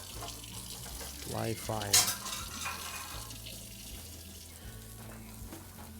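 Tap water runs faintly as dishes are washed at an indoor sink, heard from outside near a Santa Maria grill cooking picanha, with a brief clatter and low background hum.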